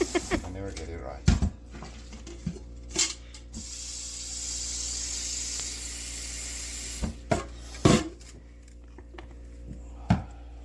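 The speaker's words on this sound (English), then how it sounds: "wash the bucket with a sponge" A bucket is scrubbed with a sponge in intermittent rubbing strokes, with sharp knocks and clatters of the bucket against surfaces between quieter swishing stretches, close and moderately faint.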